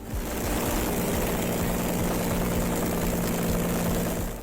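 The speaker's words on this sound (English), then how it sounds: "it contains a flipping aeroplane engine. Surely the thing is going to make a right racket." Motorcycle powered by a 300 horsepower Rolls-Royce Continental V6 engine from a 1960s aircraft, a loud, constant droning roar with steady throbbing pulses, heard close up and continuous throughout.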